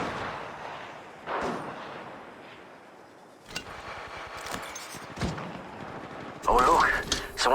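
Gunfire in the mobile shooter Apex Legends Mobile, scattered bursts and single shots at varying distances over game sound effects, with an electronic chirping effect at the end.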